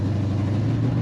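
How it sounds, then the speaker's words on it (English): A loud car engine runs steadily close by, a deep constant rumble with no voices over it; the car is a Javelin. "The car is a little loud."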